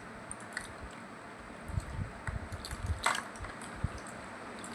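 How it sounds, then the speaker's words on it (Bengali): Hands are washed with homemade neem soap, giving soft, close, wet squishing and faint watery splashes in an uneven rhythm. "তো হাতটা আমি এবার ধুয়ে নেব।"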